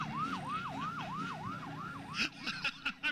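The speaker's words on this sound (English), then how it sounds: "Red light and siren." A police siren wails in a fast, repeating yelp, steady and fairly near, followed by a few sharp clattering knocks, at the 1993 Prairie Skies Air Show in Hutchinson, Kansas.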